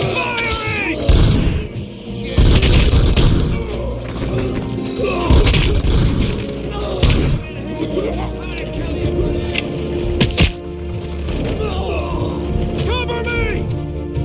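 Gunfire and impacts from the Robocop: Rogue City video game, with repeated loud bursts and crashes mixed into a busy combat soundtrack while voices shout over the action.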